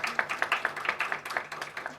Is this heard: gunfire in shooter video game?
no